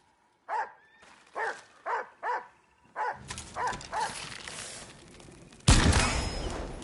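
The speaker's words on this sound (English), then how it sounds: "There's dogs around by the sounds of it." Several dogs bark in a steady series of sharp, evenly spaced woofs in the PS5 game Ghost of Yotei, followed by a busier stretch of mixed barking and a sudden loud burst of harsh noise near the end.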